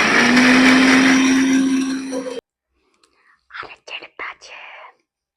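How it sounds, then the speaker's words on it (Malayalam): A kitchen mixer grinder whirs loudly and steadily as it blends chopped spinach, then cuts off abruptly, followed by quiet and a few soft whispered words. "നമുക്ക് കട്ട് ചെയ്ത് വെച്ചിട്ടുള്ള പാലക്ക് മിക്സിയിലടിക്കാം"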